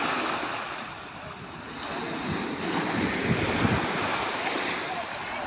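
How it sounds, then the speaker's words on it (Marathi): Sea waves wash in at Juhu beach in Mumbai, a steady broad roar of surf in the afternoon, with wind buffeting the microphone and a voice faintly audible now and then. "आणि ही लाट पाण्याची, समुद्राची लाट."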